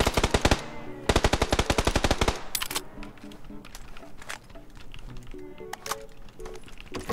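Automatic gunfire in PUBG, two rapid loud bursts of machine-gun fire, then scattered sharper shots and game sounds.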